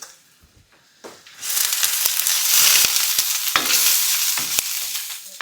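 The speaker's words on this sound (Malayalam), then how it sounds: "ചെറുതായിട്ട് അരിഞ്ഞു വെച്ചിരിക്കുന്ന ഇഞ്ചിയും വെളുത്തുള്ളി ഇട്ട് കൊടുക്കുക അതിലേക്ക് രണ്ട് ഉണക്കമുളക് ഇതുപോലെ ഇങ്ങനെ ചെറുതായിട്ട് അരിഞ്ഞ് ഇട്ട് കൊടുക്കുക" Chopped ginger, garlic and two dried red chillies drop into hot oil for a vodka chicken liver roast, bursting into a loud, steady sizzle after a brief quiet start, with a few stirring taps.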